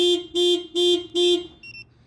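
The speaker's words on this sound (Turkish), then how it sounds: "Alarm devreye girdi." A Honda car's alarm system arming with four loud, evenly spaced electronic beeps, followed by two fainter, shorter high chirps as it settles.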